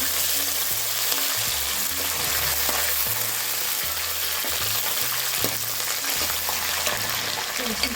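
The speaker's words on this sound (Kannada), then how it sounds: "ಇವಾಗ ಫ್ರೈ ಆದ ನಂತರ ಮೆಣಸಿನ್ಕಾಯಿ ಹಾಕ್ತಿದ್ದೀನಿ" Green chillies added to a pan of chana dal and curry leaves fry with a steady, dense sizzle throughout, with low rumbling stirring underneath and faint voices in the background.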